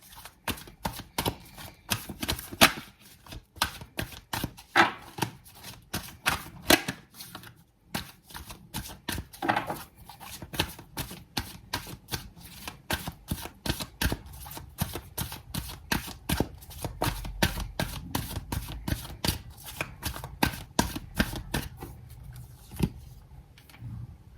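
Tarot cards shuffled and drawn by hand in a steady, rapid run of crisp riffling snaps and slaps, close and fairly loud, continuing without pause and without talk.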